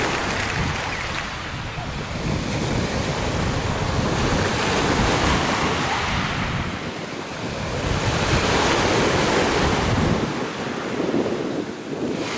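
Sea waves wash and roll continuously around a swimmer off the shore at Lyubimovka, loud and close, with heavy wind buffeting the microphone throughout.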